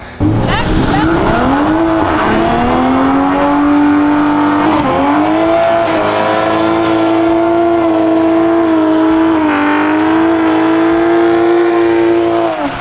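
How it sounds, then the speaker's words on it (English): Toyota MK5 Supra, widebody and ECUtek-tuned, with an HKS catback exhaust and titanium tips, revving loud and close: a sustained engine drone that climbs, dips briefly, then holds a strong steady pitch with tire-squeal-like edges. "It has HKS catback exhaust and titanium tips. It sounds unreal."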